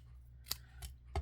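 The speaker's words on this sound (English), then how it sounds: "You can do this with your scissors pretty quickly." Scissors snip small printed paper words for a stamped card, making three quick, crisp cuts about a third of a second apart. The cuts are soft and close against a quiet low hum.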